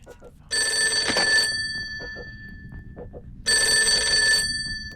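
A telephone rings in a scene from Christopher Nolan's 2000 film Memento, with two loud, bright bursts of ringing separated by a pause and faint background sounds between them.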